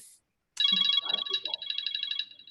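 A phone ringtone rings in the background of a video call, a bright repeating electronic warble lasting a couple of seconds after a brief pause, with faint voice-like sounds mixed in.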